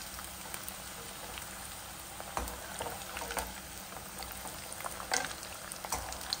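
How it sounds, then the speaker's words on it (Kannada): Jackfruit pieces frying in a pan give a steady, close sizzle with scattered pops and crackles, and no voices. "ಎರಡು ಸೈಡ್ ಸಹ ಒಳ್ಳೆ ರೀತಿಯಲ್ಲಿ ಫ್ರೈ ಆಗಬೇಕಿದು"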